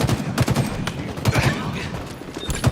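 Rapid gunfire in a shooter video game cracks in repeated bursts under loud, busy game audio, with a player talking over it.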